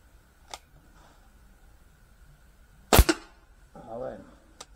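A Stoeger XM1-Sport air rifle fires a single sharp, loud shot into a toaster, with a quick metallic knock right behind it, set against near silence, followed by a faint murmur of voices.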